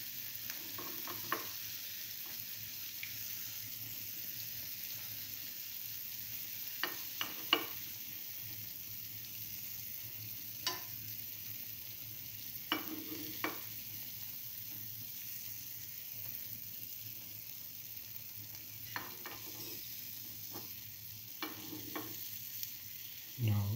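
Okra chickpea fritters frying in a cavity pan, giving a steady, soft, close sizzle throughout, broken by scattered light clicks and taps of a utensil against the pan, with no talking.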